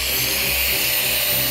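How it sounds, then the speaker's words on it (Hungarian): An angle grinder cuts with a loud, steady high whine and harsh hiss that runs unbroken through the whole moment. "Jana, ide a flexet."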